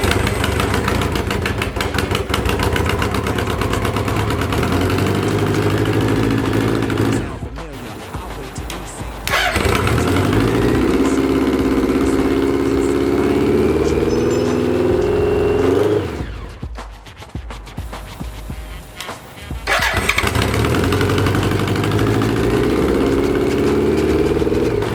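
A 1986 BMW K100 motorcycle engine with rewired fuel injection idles loudly and close, a steady rumble that drops out twice, cranks and restarts before settling back into idle.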